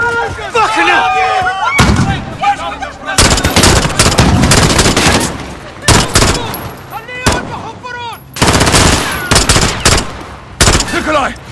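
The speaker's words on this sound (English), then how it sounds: "How? The gunshots, of course." Call of Duty Modern Warfare gunfire: loud bursts of automatic and single shots in rapid clusters with short gaps between, close and sharp, with shouted voices mixed in.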